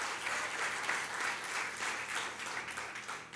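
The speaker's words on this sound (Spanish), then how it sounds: "De un aplauso fuerte al Señor." A church congregation applauds loudly for the Lord during a Spanish-language sermon, a steady, even roar of clapping hands that holds for several seconds.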